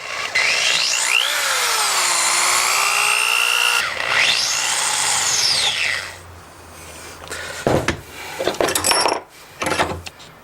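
A bolt on a worm-wheel prototype is tightened: a steady whining power-tool drone with sliding pitch, then a quieter pause and a cluster of sharp metallic clicks and rattles near the end.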